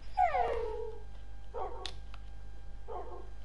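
A dog in Minecraft gives a high whining whimper followed by two short bark-like yips spaced about a second apart, fairly faint over a low steady background hum, with no talking.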